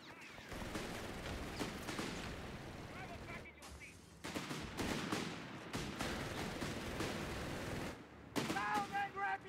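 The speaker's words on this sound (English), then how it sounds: "Taking small arms fire!" Small arms fire crackles through a Company of Heroes 3 battle in repeated sharp bursts and volleys that keep going with brief lulls. Game voice callouts come in between the shots.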